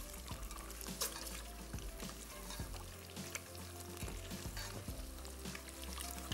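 Eggs frying in about a quarter cup of oil while being stirred continuously give off a steady crackling sizzle, with low rumbling and occasional scrapes throughout, fairly faint and with no voices.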